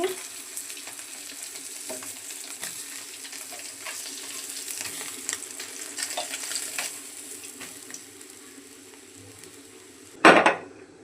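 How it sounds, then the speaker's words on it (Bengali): Fish frying in oil in a pan, a faint continuous sizzle with scattered crackles and small clinks, ending in a brief loud clatter near the close. "মাছগুলো লাল করে ভেজে নিচ্ছি, এখন নামিয়ে নিচ্ছি।"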